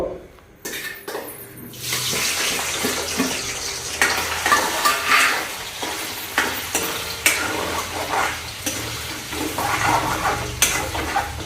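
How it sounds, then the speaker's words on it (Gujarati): Paneer cubes sizzle in a pan with steady frying hiss and repeated stirring scrapes; utensil clatter and some running water join in, with no talking. "પનીર થોડું ફ્રાય કરવાનું હોય તો આપણે પનીરને ફ્રાય કરી દેવું"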